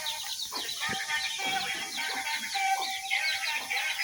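Chickens cluck and chirp softly amid a busy outdoor background, several birds calling at once at moderate distance.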